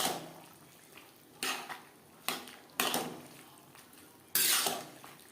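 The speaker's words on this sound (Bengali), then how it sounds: "মাছ বেশ ভালো করে মিক্সড করে দেব।" Fried fish being stirred into bottle gourd curry in a pan, with a handful of separate scraping, clattering utensil strikes against the pan over a faint background, close and fairly sharp.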